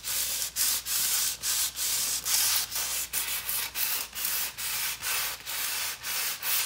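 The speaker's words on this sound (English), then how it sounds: "it's gonna come off with this sanding" Fine-grit sandpaper rubs back and forth along the tint-coated wooden back of a guitar neck, a loud, close, rhythmic scratching in about fourteen even strokes with brief gaps between them.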